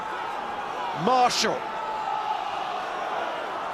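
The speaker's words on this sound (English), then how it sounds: "And listen to the crowd" Stadium crowd noise at an Ulster versus Munster rugby match, a steady roar underneath close commentary, swelling briefly in the middle.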